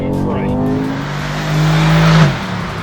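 Mercedes AMG C63S engine revving hard as the rear tyres break loose, a loud close growl climbing in pitch with a tyre squeal building and then cutting off near the end, a voice faintly underneath.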